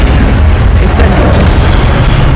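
A burst of magic fire from the Incendio spell in the video game Hogwarts Legacy, heard as a loud, dense roaring blast that fills the whole moment with a sharp bright flare near the middle.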